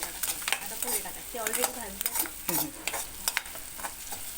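Kanda poha with onion stirred and fried in a pan, a spoon scraping repeatedly with an irregular rhythm over a steady sizzle, close and clear with no talk.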